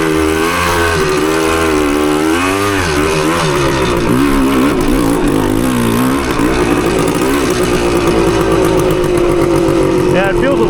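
A 1980 Suzuki TS185 two-stroke motorcycle engine revving hard while riding, loud and continuous with rising and falling pitch as the throttle opens and closes, wind rumble underneath.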